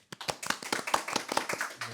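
Sparse, separate hand claps greet a presenter at an online Korean webinar on Azure AI services, about a dozen distinct claps in an uneven rhythm, close and fairly faint, with no talk over them.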